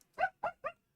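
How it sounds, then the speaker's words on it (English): A dog outdoors gives three quick, sharp barks in a row, close by and fairly loud, with near silence between them. "That's my dog barking outside."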